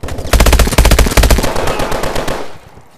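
Rapid automatic gunfire from a gun in Call of Duty: Advanced Warfare rattles out in a loud, close, continuous burst for over a second, then a few fainter trailing shots and reverb as it dies away.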